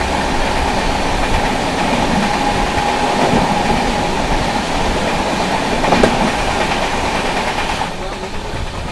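The Goa Sampark Kranti Express runs past the Mumbai Central–Ahmedabad Tejas Express on a crossing. A continuous loud roar of rolling wheels and clattering carriages carries throughout, with a few sharper knocks.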